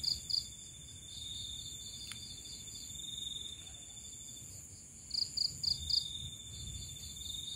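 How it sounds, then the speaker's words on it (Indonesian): Crickets chirp in quick, high bursts against a quiet nighttime background in a village, with a faint low rumble and a brief click partway through. "dengan suara jangkrik yang seperti ini menjadi suasana semakin sadu ya"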